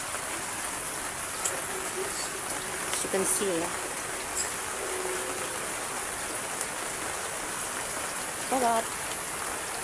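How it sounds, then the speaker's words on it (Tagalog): Heavy rain falls steadily outside as a continuous broadband hiss throughout, with a person talking briefly over it. "Kasi sobrang maulan."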